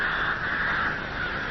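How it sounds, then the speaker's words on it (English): Cartoon crows caw in a steady, loud, continuous call, close and unbroken, with no voices over them. "waving the old hat at the crows"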